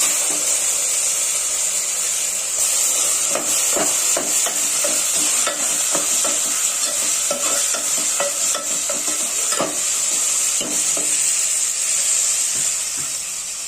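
Oysters fry with red chili powder, garlic and oil in a pan, a loud continuous sizzle broken by frequent scraping stirs and clicks of a spoon against the metal.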